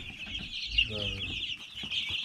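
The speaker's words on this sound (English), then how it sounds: "all the other varieties of chickens will go into our coop with our other laying hens" Laying hens of mixed varieties, including Lavender Orpingtons, Barred Rocks and Easter Eggers, cluck in a coop, a close, busy stream of overlapping clucks and murmurs with one louder squawk partway through.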